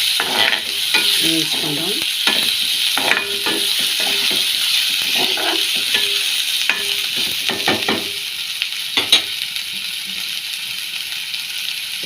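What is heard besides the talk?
onion pieces and green chili frying and stirred in pan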